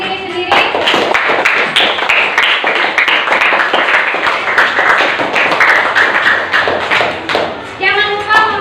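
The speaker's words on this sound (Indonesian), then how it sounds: "tepuk tangan untuk diri sendiri" A class breaks into lively applause, fast overlapping claps and thumps mixed with children's excited voices, close and loud for several seconds.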